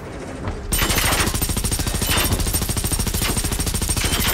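Rapid automatic gunfire from Generation Zero starts suddenly after a quiet moment and keeps up a fast, even rhythm of loud shots to the end, close and dominant over faint game ambience.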